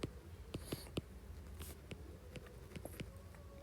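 A pen makes faint, intermittent scratching strokes on paper while answers to physics exam questions are written out, with short taps and scrapes scattered through a quiet room.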